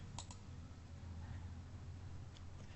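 A quiet double click of a computer mouse near the start, followed by a fainter click later, over a low room hum with no speech.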